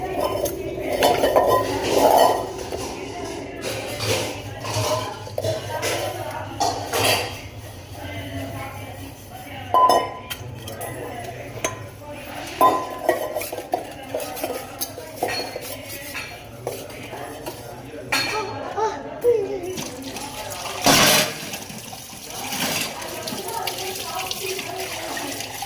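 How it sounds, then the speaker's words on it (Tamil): Dishes and cutlery clink and clatter close by while water runs intermittently as a vessel is scrubbed and rinsed, with a louder splash near the end; a voice speaks now and then over the kitchen noise. "வச்சுட்டு நல்லா கழுவுறேன்."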